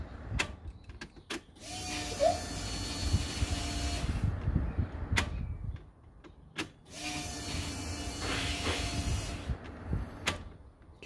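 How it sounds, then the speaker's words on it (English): A D40 Navara with a swapped-in V8 engine cranks in two long bursts while air hisses through the fuel system, a steady mechanical whir broken by short clicks. "Can hear the air coming through that."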